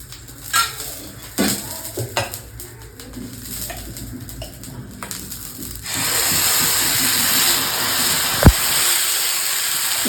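Beetroot dosa batter hits a hot pan and breaks into a steady, loud sizzling hiss midway, after a stretch of light clinks and utensil scraping.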